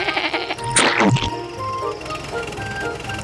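A cartoon sheep gives one sharp, wavering bleat near the start, loud and close over a busy animated soundtrack.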